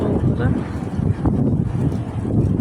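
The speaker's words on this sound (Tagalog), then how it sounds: "Sobrang hangin." Strong wind buffets the microphone in gusty rushes, with a voice speaking underneath the roar.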